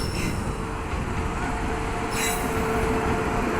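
An Indian express train rolls along platform 1 at a station, its wheels and coaches producing a loud, continuous rumble with faint metallic squeal, and a brief hiss near the middle; a voice may be faintly present.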